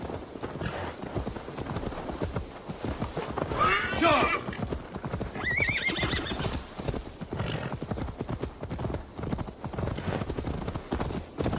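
Horse hooves clip-clop at a walking pace in the video game Assassin's Creed Valhalla, with a loud, close neigh and whinny rising partway through over ambient game sounds.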